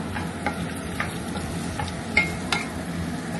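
Garlic and ginger sizzle steadily in a pan while chicken adobo is being cooked, a continuous frying hiss broken by a few sharp clicks of a utensil against the pan.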